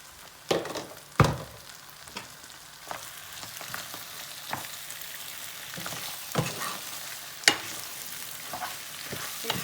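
Liver frying in a pot and being stirred, a steady sizzle with sharp clacks of a spoon against the pot at irregular intervals, close and alone with no talk.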